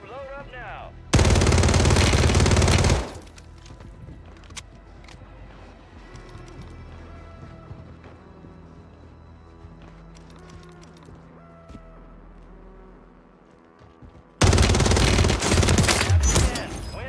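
WSP Swarm submachine gun firing in Warzone 3, two loud sustained bursts of rapid automatic fire, one near the start and one near the end, with quieter in-game ambience between them.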